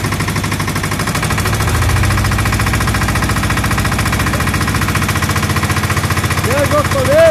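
An outboard boat motor revs hard on Lake Eber, a loud, continuous, rapidly pulsing engine drone that holds steady throughout, close by, with faint voices underneath.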